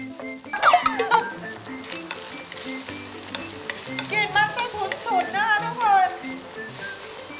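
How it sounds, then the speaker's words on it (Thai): Canned luncheon meat ham stir-frying in a pan with garlic, a steady sizzle broken by scraping stirs, while someone talks over it. "ผัดไปเรื่อยๆจนกว่าตัวแฮมมันจะเปลี่ยนสีนะคะ"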